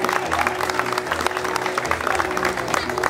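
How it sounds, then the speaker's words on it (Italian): An audience at a live concert in Gallipoli applauds a pianist, a dense, steady patter of many hands clapping at moderate loudness, with no one speaking over it. "al quale decretiamo già il primo applauso della serata."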